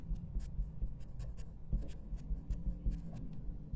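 Chalk or marker taps and scratches on a board while a maths problem is being solved, in short, irregular strokes at close range with a low room hum beneath.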